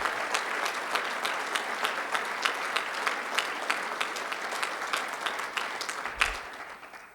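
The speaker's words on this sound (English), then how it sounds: "Please clap again. Please." Audience applause at a University of Mary press conference, a steady patter of many hands clapping that holds for several seconds, with a few sharper claps standing out, then tapers off near the end.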